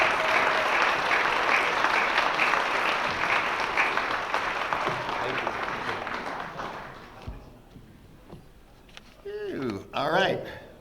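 A large audience applauds and cheers to welcome former NFL quarterback Eric Hipple at a Saginaw speaking event. The clapping is dense and sustained, then fades, with scattered voices and a few whoops near the end.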